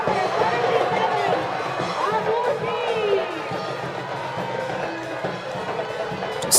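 A home crowd at a Philippines Football League match between Cebu FC and Loyola FC roars and cheers after a Cebu goal. The broad, sustained crowd noise runs under continuous commentary.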